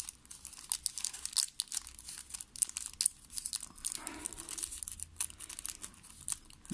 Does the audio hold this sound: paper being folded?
yes